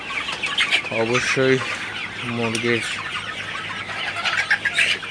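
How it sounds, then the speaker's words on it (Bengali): Chickens cluck repeatedly while drinking water on a hot day, short close-up bursts of clucking in quick pairs over a low barnyard background, with a brief spoken word in between. "আপনারা দেখতে পাচ্ছেন মুরগিগুলো কীভাবে পানি খাইতেছে"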